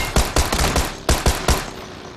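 Bursts of automatic gunfire in PlayerUnknown's Battlegrounds, loud and close, firing in rapid clustered volleys with short pauses between them, then stopping.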